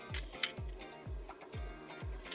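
A Nikon F2 Photomic film camera shutter fires repeatedly at slow speed, a series of quiet mechanical clicks and snaps spaced about half a second apart over a low hum, close and faint.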